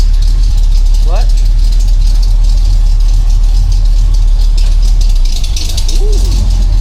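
A Jeep CJ-7's freshly rebuilt engine runs steadily on its first drive, a loud continuous low rumble filling the whole stretch, with a brief squeal or shift noise near the end.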